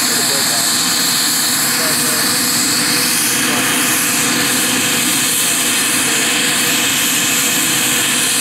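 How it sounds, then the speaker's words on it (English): Black Hawk helicopter turbine engine running at startup, a loud, constant high whine and roar filling the clip with voices talking beneath it. "That's the turbine's running."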